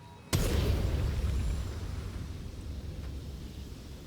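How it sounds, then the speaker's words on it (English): A conjured elemental spell in Baldur's Gate 3 erupts with a sudden loud boom, then settles into a long rumbling roar that slowly fades. "Oh, conjure an elemental."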